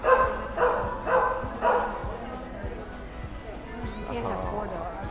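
Several dogs barking and yipping in short bursts at close range, including a German Shepherd, with people talking and cooing over them throughout.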